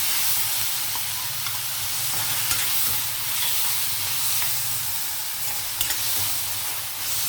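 Ginger and garlic fry in a pan with a continuous close hiss and crackle, plus occasional small pops and utensil clicks and no voices.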